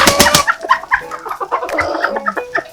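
Chickens cluck and squawk inside a very clean chicken coop, a busy close chorus of short overlapping calls with one loud burst at the start, and no talking.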